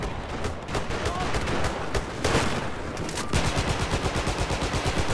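Machine gun fire in the Battlefield 4 video game during a multiplayer match: rapid automatic bursts with dense, overlapping shots, then a steady rhythmic stream of fire near the end, loud and close.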